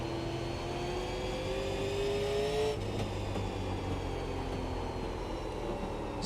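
A Super Late Model race car engine at Oxford Speedway in iRacing holds a steady, rising drone under throttle, then drops in pitch and settles into a sustained roar, close and continuous with no talking.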